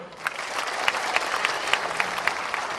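An audience at a Golkar party Halal Bi Halal gathering in Kukar, East Kalimantan, applauds steadily throughout, a full crowd of clapping hands with a few sharper individual claps standing out.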